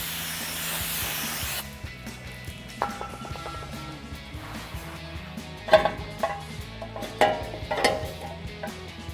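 Brake cleaner sprayed onto a PowerStop OE replacement 6-lug brake rotor: an opening burst of strong aerosol hiss, then quieter shop handling with a few sharp clatters of metal and rags close by.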